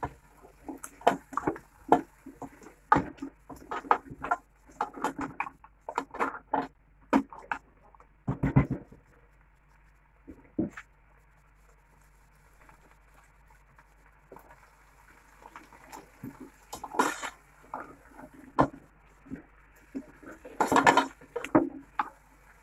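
Metal utensil clattering and scraping against a pot while stirring trotters, irregular knocks and stirring strokes in bursts, close by, with a quieter pause midway.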